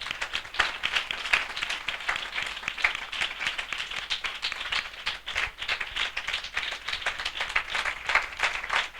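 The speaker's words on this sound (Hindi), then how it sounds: "हम जोरदार तालियों से उनका स्वागत करें।" A church assembly audience claps steadily, with many hands blending into sustained applause at moderate distance and no talk over it.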